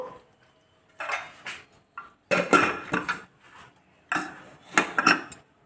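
A pressure cooker holding goat trotter paya with water and salt has its metal lid fitted and closed, giving a series of close clinks, scrapes and clatters in several bursts, with no talk.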